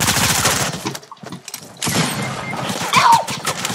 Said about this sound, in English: Can I use a turret now?